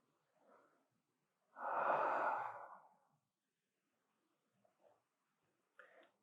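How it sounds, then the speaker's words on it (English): One long, slow breath during a guided meditation, a soft airy exhale lasting over a second, near and quiet, surrounded by faint small breath sounds and stillness. "It's just you breathing with yourself"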